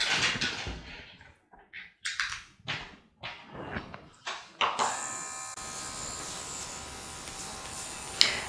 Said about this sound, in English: The tattoo machine has vibration, but not a lot